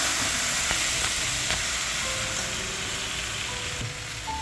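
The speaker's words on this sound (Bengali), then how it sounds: "আলু আর ঝিঙে দিয়ে দিচ্ছি, হালকা করে ভেজে নেব মরিচটার সঙ্গে।" Potatoes and ridge gourd fry with chili in hot oil in a pan, a steady, close crackling sizzle that holds evenly throughout with occasional light stirring touches.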